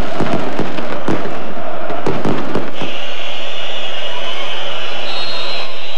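Fireworks and firecrackers burst at an AEK Athens cup celebration, a rapid string of sharp loud bangs for about three seconds, then a sustained hissing flare with a crowd murmur underneath.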